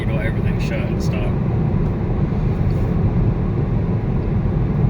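A 2019 Camaro SS with no catalytic converters and active exhaust drones at a steady, low idle, a continuous deep rumble with faint talk briefly over it.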